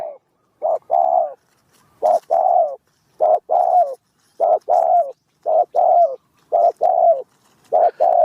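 A spotted dove coos repeatedly in a steady rhythmic pattern of short paired phrases, close and clear against a quiet background.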